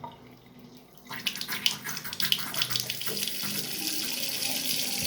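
Water streams from a kitchen faucet through an aerator fitted with a new rubber seal, a steady, even, close hiss that starts abruptly after a second of quiet and continues alone.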